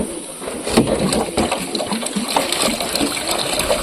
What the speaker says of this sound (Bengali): এই জলটা আমার ফেলে দিতে হবে।